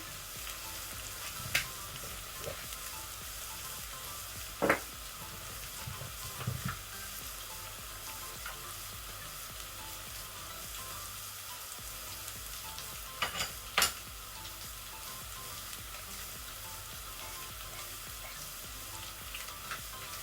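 Mutton trotters frying in a pan over moderate heat, a soft steady sizzle broken by occasional sharp clinks and scrapes of a spoon stirring.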